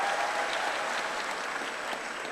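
A studio audience at a television talk show applauds, dense and steady clapping filling the room without speech.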